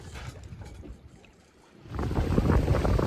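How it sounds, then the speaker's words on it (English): Wind rushes across a sailboat at sea, a soft breathy hiss that eases to a lull, then swells back louder and rougher with buffeting gusts and water noise. "Wind picked back up."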